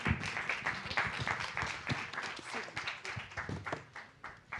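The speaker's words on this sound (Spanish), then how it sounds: "Un aplauso." An audience applauds at a competition-policy session in Mexico, giving quick, moderately distant clapping that stays fairly faint and steady for several seconds.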